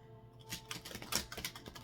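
Tarot cards are shuffled by hand in a quiet room, a quick burst of soft papery riffles and taps that build into a busier flurry before trailing off.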